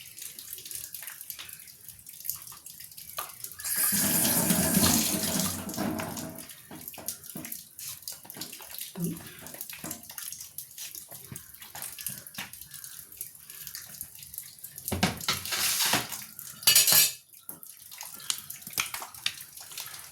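Mangoes being washed for juice: running tap water splashing in bursts, one longer gush early and short splashes later, with quiet handling sounds between.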